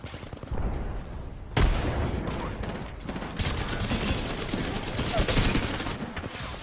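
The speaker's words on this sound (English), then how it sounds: "Shots on me." Sustained gunfire and bursts in a squad-based battle royale shooter, near and loud throughout, with a sharp heavy blast partway in and a voice talking underneath.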